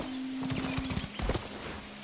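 Horse hooves clip-clop in a video game, a quick run of close hoof clacks with a brief neigh-like tone, lasting about two seconds.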